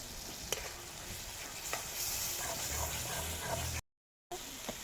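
Ginger paste, chilli powder and spices frying in oil in a pan, with a close, steady sizzle and soft scraping stirs over about four seconds before a brief cut to silence.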